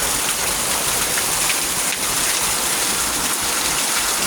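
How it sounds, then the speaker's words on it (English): Steady rain falls on a garden, a dense continuous hiss of drops spattering the ground and plants, close and even throughout with no voices. "Thank the Lord for the rain falling from the sky to come in to water the garden."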